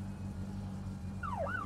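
A police siren in the video game My Summer Car wails briefly near the end, rising and falling once, faint over a steady low engine rumble.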